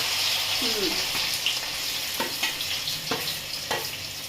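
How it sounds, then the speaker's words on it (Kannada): Bitter gourd tossed with salt and turmeric sizzles steadily in hot oil, a continuous close hiss punctuated by a few sharp stirring scrapes and clicks. "ಈಗ ಉಪ್ಪು ಅರಿಶಿನ ಬೆಳೆದಿರೋಂಥದ್ದು ಹಾಗಲಕಾಯಿ ಎಣ್ಣೆಗೆ ಹಾಕ್ತಾ ಇದ್ದೀನಿ."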